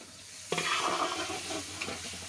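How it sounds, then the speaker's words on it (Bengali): Duck meat cooking in a pan, likely over a clay stove, with a steady sizzling hiss after a sudden onset, continuous and fairly close, with no talk. "এটা হলো হাঁসের মাংস রান্না।"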